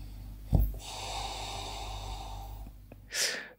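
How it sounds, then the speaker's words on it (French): A close, rough snoring snort, then a long drawn breath, and another raspy snore at the end. No talking. "Durant ce podcast, nous serons interrompus par des ronflements intempestifs."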